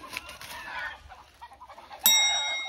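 Chickens on a lockdown property in New Zealand give agitated clucks and squawks, a few irregular calls nearby, then a sudden sharp loud burst near the end.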